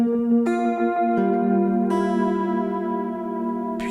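A guitar chord voiced in the Dorian mode, a sustained ringing chord with notes shifting and layered over about four seconds, clear and without talk.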